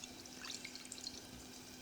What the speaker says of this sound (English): put a little bit of water in and just push that through